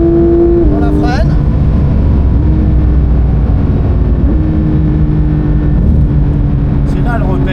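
A race car braking hard at the Spa-Francorchamps circuit: a loud, close engine drone drops in pitch through downshifts as it slows, with voices talking over it.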